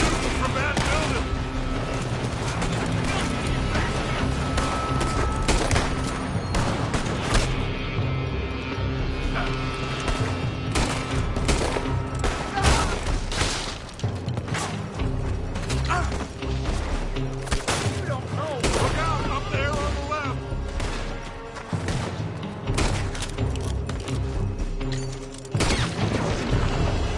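Red Dead Redemption 2 firefight with gunfire from a building: a long, steady barrage of overlapping shots, booms and impacts under a continuous loud mix, with voices shouting now and then.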